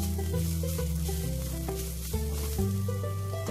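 Broccoli paratha filling sizzles in a pan with a continuous frying crackle and stirring sounds, set under a steady layer of sustained background music.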